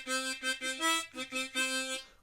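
Harmonica playing a short phrase in octaves, with several separate reedy notes rising and falling over about two seconds, close and clear with no talk.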